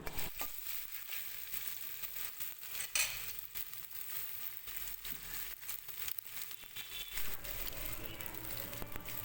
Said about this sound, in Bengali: সব মিলিয়ে আবার ভালো করে তেলের মধ্যে ভেজে নিচ্ছি